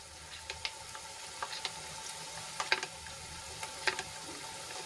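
Spices sauté in a pan for a Gujarati vegetable dish, a soft, steady sizzle with scattered small pops and crackles and no talking.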